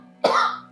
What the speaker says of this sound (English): Sorry, I was trying to stop from coughing.